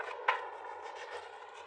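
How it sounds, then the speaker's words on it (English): Tarot cards riffled in a quick shuffle, a soft close papery rustle with one brief louder snap near the start, alone and fairly faint. "So let me give these one last shuffle"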